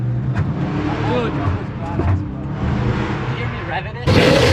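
Engine of an off-road truck at an off-road expo, a steady loud motor drone that runs through the whole stretch and swells sharply near the end, with people talking nearby.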